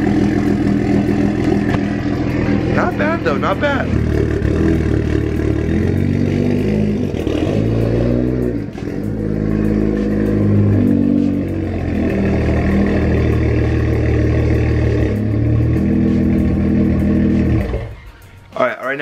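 A BMW 335i engine idles steadily after a cold start, its exhaust note softened by a cold-start reduction tune, a continuous low rumble running under a man's close, casual talk.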